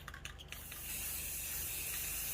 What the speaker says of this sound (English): So I'm just going to spray it a little bit with this